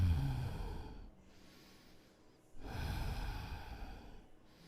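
Sharp nasal sniffing breaths taken during a yoga flow breathing exercise, two close bursts of breath noise separated by a quieter stretch, heard up close with no talking.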